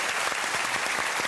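Studio audience applauding on a television entertainment show, a dense, steady wash of many hands clapping at full volume throughout, with no speech.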